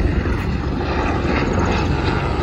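Loud, continuous helicopter engine and rotor drone, recorded from inside the helicopter over mountains, steady and close, with no pauses.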